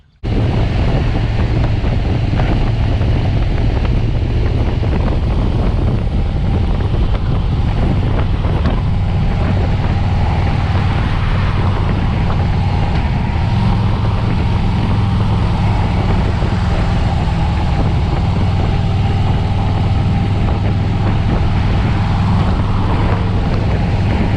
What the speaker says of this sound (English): We're going to fire up the Softail now and head over to Mathews Harley Davidson.